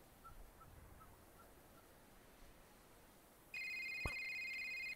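A cell phone rings outdoors on a quiet night hike, a steady electronic ringtone starting abruptly after a few seconds of faint ambient hush and continuing clearly to the end.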